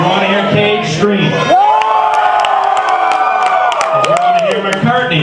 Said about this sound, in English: If you want to hear Cage, scream.